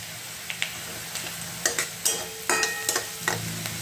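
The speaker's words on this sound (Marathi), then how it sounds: "कांदा परतून झाल्यानंतर लाल तिखट टाकलेलं आहे" A utensil stirs sautéed onion with red chili powder in a pan, with quiet sizzling frying underneath and a string of light, uneven scraping clinks against the metal, close by and with no talk.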